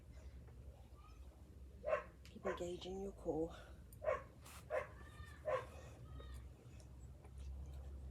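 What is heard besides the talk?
neighbour's dog barking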